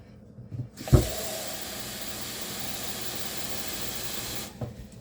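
Water pours steadily into a rock tumbler barrel to make a grit slurry, a continuous hissing rush that starts after a single clunk and stops abruptly a few seconds later.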